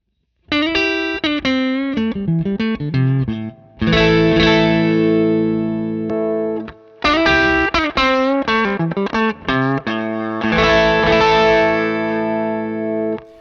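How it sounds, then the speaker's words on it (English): Electric guitar played through a Catalinbread Skewer boost pedal into a clean Fender Deluxe Reverb amp, loud and close, with quick picked note runs and sustained ringing chords broken by short pauses. "So I'm going to start with the Skewer, which is going to be a gentle roll off of the low frequencies and just a lot of output."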